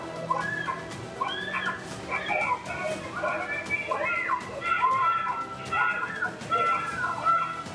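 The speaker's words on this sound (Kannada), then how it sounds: "ಬಾಲಕಿ ಮೇಲೆ ಬೀದಿ ನಾಯಿಗಳು ಏಕಾಏಕಿ ಭೀಕರ ದಾಳಿ ನಡೆಸಿವೆ" Stray dogs attacking a girl on a street, caught on CCTV: a tangle of sharp yelps, whines and barks that overlap in quick bursts, fairly close and loud over a noisy background.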